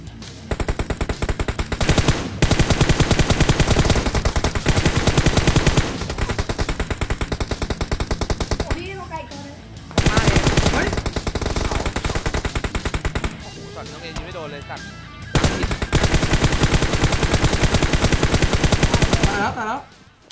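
Loud, sustained automatic gunfire in the mobile battle royale shooter PUBG Mobile, long rapid bursts with brief gaps, while players talk over the shooting.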